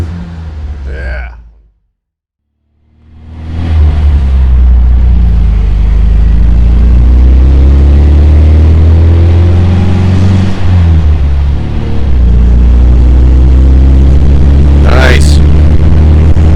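A 1971 MGB sports car driving on farmland roads, its engine a loud, steady low rumble close by after a brief silence, with a short rising note near the end and voices talking over it.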